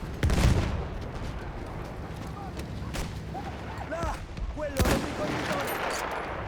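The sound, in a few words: M1903 sniper rifle gunshots in video game Battlefield 1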